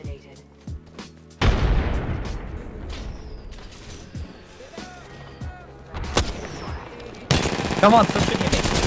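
Heavy Apex Legends gunfire arrives in loud bursts of rapid shots and booms, near and intense, with quieter gaps between, and a voice briefly speaks over it.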